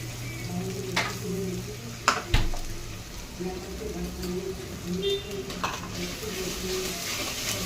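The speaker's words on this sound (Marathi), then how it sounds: "चला आता हे छान मस्त असं परतवून घ्यायचं, हे मसाला व्यवस्थित छान असा" Masala paste being stir-fried into a chicken gravy with no water, a spoon scraping and clinking against the pan amid a soft steady sizzle, with a few louder knocks and a voice talking faintly over it.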